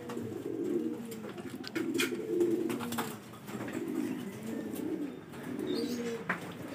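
Pigeons coo steadily during training in Lucena, in low, rolling phrases that repeat throughout, with faint chirps and light background noise.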